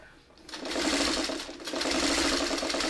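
A sewing machine stitches seams in a quilting pattern, its needle running in a fast, steady whir that pauses briefly and then carries on, close and fairly quiet.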